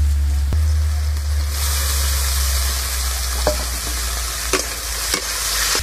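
Paneer and chopped carrot, capsicum and onion stir-fried together in a hot pan for chicken momo filling, giving a constant close sizzle with a few sharp spatula knocks and scrapes against the pan.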